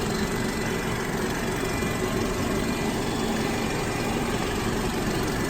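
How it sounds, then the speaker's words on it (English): A 2019 BMW 330i twin-turbo engine idles steadily throughout, a low continuous drone with faint vibration and no change in pitch. "Engine is running absolutely great."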